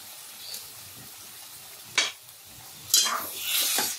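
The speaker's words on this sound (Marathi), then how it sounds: "ह्या पद्धतीने सगळे पीसेस आपण ह्या मसाल्यामध्ये घालून घ्यायचे" Chicken pieces stirred into a masala in a pan for dry sukka chicken cooked in ghee: a soft sizzle underneath, with a few sharp scraping stirs and a louder scrape-and-sizzle near the end, close by and with no talking.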